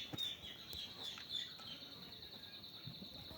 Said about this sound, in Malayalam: നല്ല ഭംഗിയുള്ള കോഴികളാണ്.